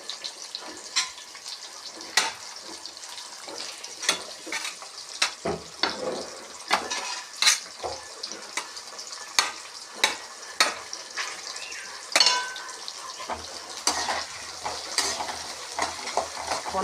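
Onion and garlic sautéing in a pan for kuzhambu: a soft, continuous sizzle broken by repeated scrapes and clinks of a spoon stirring against the pan, close and fairly quiet.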